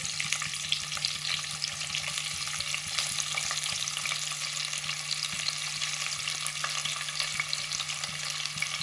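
Three large onions sautéing in a pot for mutton biryani, an even, dense sizzle and crackle with light stirring scrapes throughout, close and without speech.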